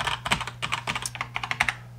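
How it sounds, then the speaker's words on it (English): Quick bursts of typing on a computer keyboard during a Unity software tutorial, a close run of light clicky keystrokes in an uneven rhythm, about a dozen presses over two seconds with no voice. "So if I try and type in"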